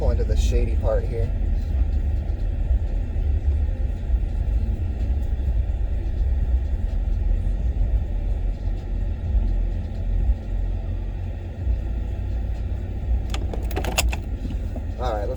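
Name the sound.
2010 Ford F-150 Harley Davidson truck pulling into a shady parking spot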